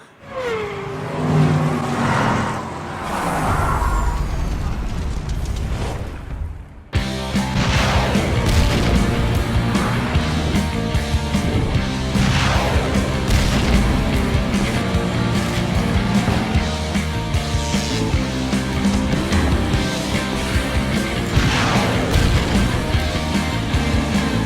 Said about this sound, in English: Nate, start those mini motor races